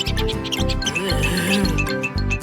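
A mouse squeaks in a children's nursery rhyme song, with high chirpy squeaks running over a bouncy musical backing for a couple of seconds.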